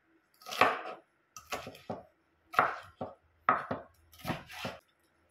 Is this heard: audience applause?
no